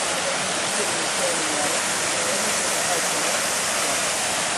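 A waterfall on the Big Island near Kona roars as a dense, constant wash of falling water, loud and close throughout with no break.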